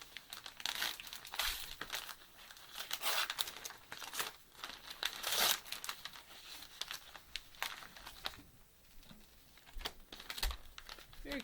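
Wrapping paper on a gift package crinkles and tears in irregular bursts of rustling, close and fairly quiet, with brief pauses between handfuls.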